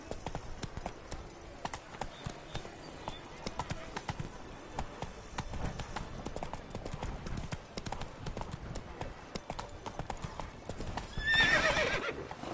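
Roach the horse galloping in a video game, rapid rhythmic hoof clip-clop under a voice, with a loud whinny near the end.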